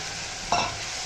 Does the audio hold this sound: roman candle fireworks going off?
no